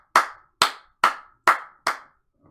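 Five sharp, evenly spaced hand claps ring out alone, loud and close, each fading quickly before the next, with a faint sixth beginning right at the end.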